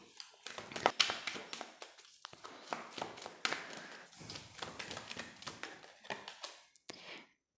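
Tarot cards handled and laid out on a surface, a string of quick soft taps, slaps and shuffling rustles in an irregular rhythm, close and fairly quiet.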